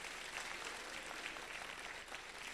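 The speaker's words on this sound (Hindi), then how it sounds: "तालियां होनी चाहिए कि नहीं होनी चाहिए?" A crowd at an honour ceremony in Bhiwani applauds, producing a dense, even wash of many hands clapping at moderate distance that holds steady for a couple of seconds.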